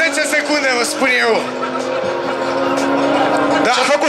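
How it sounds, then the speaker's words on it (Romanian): A Subaru WRX STI brakes hard during a timed race, giving a loud, close squeal of tires and engine noise that sweeps in pitch. A voice talks over the sound. "Ce-a făcut Subaru, a frânat?"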